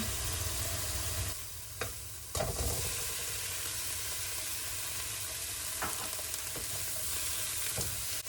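Shrimp and diced tomatoes with garlic fry in a hot pan, giving a loud, steady sizzle throughout, broken by a few close scrapes and knocks of a utensil stirring; no one speaks.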